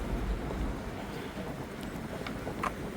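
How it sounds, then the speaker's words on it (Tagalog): Cold outdoor wind buffets the microphone with a continuous low rumble and rustle, fairly steady throughout, with faint background noises but no speech. "Mahangin pati."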